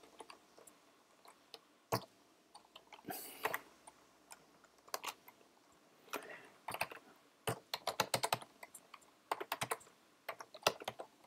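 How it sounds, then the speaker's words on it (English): A computer keyboard is tapped close up in a quiet room while a list is typed, with irregular bursts of crisp keystrokes and short pauses between words. "So I'm going to type a list."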